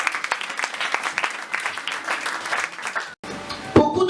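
A church congregation applauds to acclaim the Lord at a youth convention, a dense, steady wash of many hands clapping that cuts off abruptly, followed by a brief quieter stretch with a faint tone.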